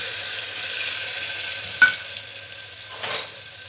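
Chopped tomato and spices for chana masala frying in a pan, a steady close sizzle with a couple of brief stirring scrapes and clinks, no voices.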